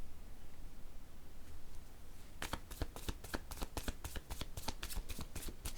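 Tarot cards are gathered up, then riffled in a close, crisp run of rapid shuffling snaps that goes on to the end after a quieter opening.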